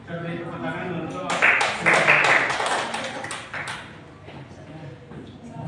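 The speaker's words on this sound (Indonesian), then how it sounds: "Kita beri tepuk tangan untuk" A classroom of students breaks into applause for a few seconds, a dense burst of clapping that swells and then fades, set against a teacher's lesson.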